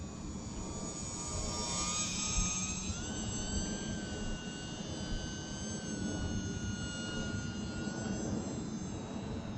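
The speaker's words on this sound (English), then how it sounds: "I wanted to show you guys what this thing does in the air" An E-Flite UMX Cirrus SR22T RC model airplane flies overhead, its small electric motor giving a steady whine that rises and falls in pitch against a constant airy rush.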